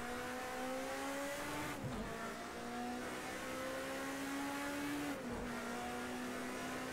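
A race car in a racing video game holds a loud, steady engine drone with rising pitch, two brief gear-shift dips as it accelerates, and a faint hiss of tires throughout.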